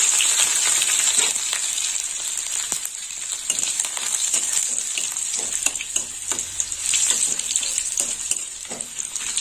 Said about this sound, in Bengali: একটু কালো জিরে, শুকনো লঙ্কা 4টে, আর দিয়ে দেবো রসুন, থেতো করা রসুন দিয়ে দিলাম।